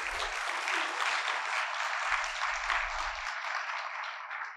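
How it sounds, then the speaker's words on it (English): An audience at a celebration event honoring Anna May Wong breaks into steady, dense applause, a continuous wash of clapping heard at moderate distance that tapers slightly at the end. "Let's give her a big round of applause."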